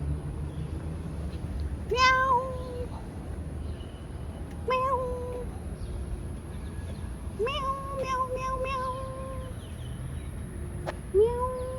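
A cat meows four times outdoors on a walk, its drawn-out, spaced cries faint against a steady background hiss and a thin high whine.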